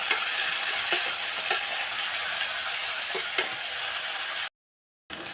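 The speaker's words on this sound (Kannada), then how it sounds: "ಸೊ ಈಗ ಎಣ್ಣೆಯಲ್ಲಿ ಸ್ವಲ್ಪ ಫ್ರೈ ಆಗಲಿ." Fenugreek leaves and onion frying in hot oil, a steady bright sizzle with faint stirring clicks, close and continuous before a brief cut to silence near the end.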